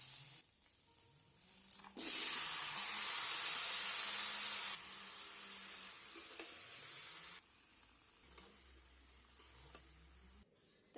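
A ball curry hits hot oil in a pan at home, loosing a sudden loud sizzling hiss that holds for several seconds and then softens to a quieter fry with light stirring clinks, no talk.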